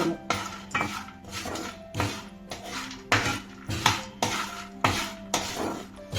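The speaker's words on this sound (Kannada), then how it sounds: "2 ನಿಮಿಷ ಫುಲ್ಲು ಮಿಕ್ಸ್ ಮಾಡ್ಕೊಳ್ಳೋಣ. 1-2 ಮಿನಿಟ್ಸ್ ಲೋ ಫ್ಲೇಮಲ್ಲೇ ಫ್ರೈ ಮಾಡ್ಕೋಬೇಕಲ್ಲ." Peanuts stirred and fried in a pan over a low flame: a rhythmic, close clatter of spoon scraping and rattling against metal, repeating roughly every half second, with no talking.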